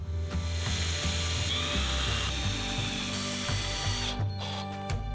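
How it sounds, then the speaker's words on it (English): A power driver whirs steadily, driving screws to fasten a plywood sheet onto the top of a large block, with a close, continuous motor whine changing pitch in short steps and briefly stopping near the end. "And cover the top with a sheet of plywood, screwing it in place."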